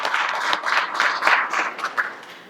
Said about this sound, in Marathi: एक स्वतःसाठी टाळ्या वाजवा सगळे.